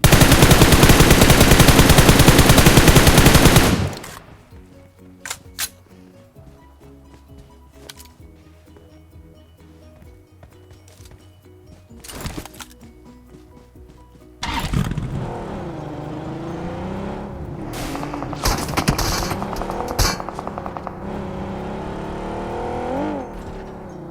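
Gunshots crackle as a dense, loud burst of rapid fire at the start, then sparse sharp shots over quiet, followed by a roaring engine-like rumble with scattered bangs.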